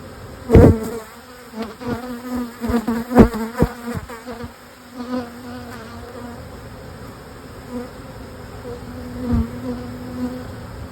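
Bees buzz around an open hive during a frame inspection, individual insects zipping close past with rising and falling whines over a low colony hum, punctuated by a few sharp knocks and clicks of handling.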